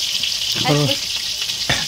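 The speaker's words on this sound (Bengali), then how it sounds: "এখন এদিকে আলু ভাজা চলছে" Potatoes frying in a pan send out a loud, steady sizzle close by, with a brief tonal scrape midway and a sharper crackle near the end, and no talking over it.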